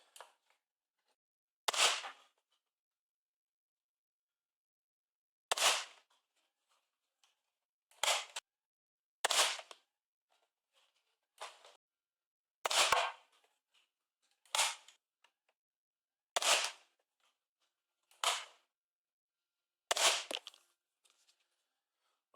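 A modified Nerf Slingfire blaster fires shot after shot, each a sharp close snap with quick cocking clicks, spaced by silent pauses of a second or more.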